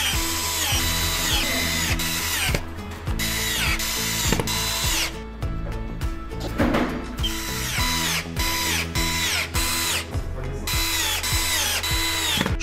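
Power screwdriver driving self-tapping screws from the hardware kit to fix corner brackets flush with the side rails of a white single bed frame; loud, continuous whirring bursts with ratcheting clicks, briefly pausing between screws, no talk.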